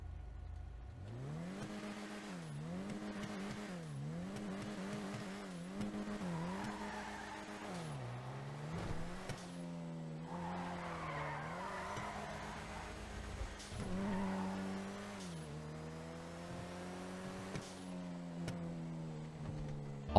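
An Ubermacht Oracle sports car engine in GTA Online revs up and down repeatedly through gear shifts, with occasional tire squeal, in a game-like mix with no talking.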